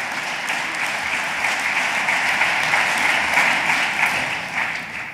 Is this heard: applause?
yes